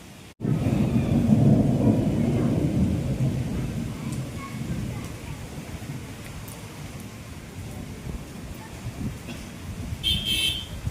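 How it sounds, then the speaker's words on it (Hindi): Rain falls steadily while a deep roll of thunder rumbles early on and fades, followed by continuing moderate rain. "अभी हो रही है बारिश, बहुत ज़्यादा तेज़ तो नहीं बोलूँगी, मीडियम"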